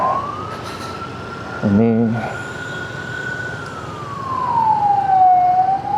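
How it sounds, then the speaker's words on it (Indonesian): Ambulance siren wailing on the road ahead in traffic in Rantauprapat, carrying a body, heard from a riding motorcycle; a steady rising and falling tone runs throughout under wind noise, with a brief voice in the middle. "karena ada ambulans di depan yang bawa jenazah ya"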